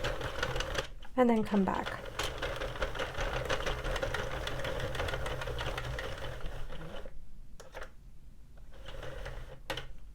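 Sentro or Addi plastic circular knitting machine being cranked along a row, giving a steady mechanical clatter and whir that runs for several seconds, with a person talking briefly at the start.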